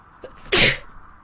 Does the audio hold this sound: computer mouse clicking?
no